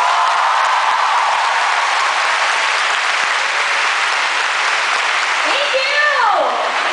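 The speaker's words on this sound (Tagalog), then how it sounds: "Pumalakpak ang lahat ng gustong pumasa." Audience clapping at a live duet performance, loud continuous applause from a crowd filling the whole stretch, with a brief sliding voice or tone near the end.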